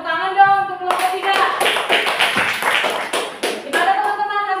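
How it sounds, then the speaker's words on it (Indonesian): A classroom of students claps for a group presentation at a teaching-practice session, a dense burst of close hand claps lasting a few seconds, with a voice speaking at the start and end. "Tepuk tangan dong untuk kelompok 3."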